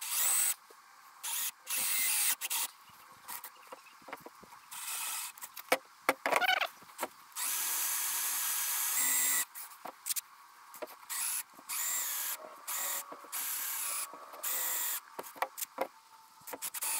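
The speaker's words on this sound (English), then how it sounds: "And I'll drill these all the way through because it's going to be the two inside pieces." A power drill bores all the way through wooden pieces for a Disney ear and bag holder, running in repeated bursts with short pauses between them, loud and close.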